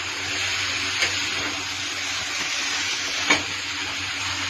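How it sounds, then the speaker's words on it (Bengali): Mixed vegetables stir-fried in a pan give a steady, close sizzle and hiss throughout, broken by two brief scraping clacks of a utensil stirring the mix, with no voices. "এখন পুরা সব সবজিগুলো একসাথে মিক্স করবো।"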